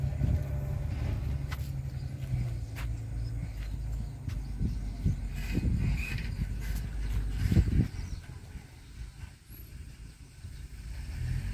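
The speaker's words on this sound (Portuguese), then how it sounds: "esse barulho aí é o caminhão chegando" A truck rumbles in at a landfill site, its low engine drone steady in the background with a few clanks and knocks, swelling briefly near the middle before settling into a quieter idle.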